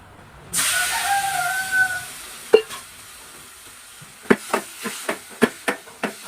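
Lemon pieces tipped into hot spices browned in oil for lemon pickle set off a loud, hissing sizzle. It fades and is followed by a regular run of sharp spoon clacks as the mixture is stirred, with no voices.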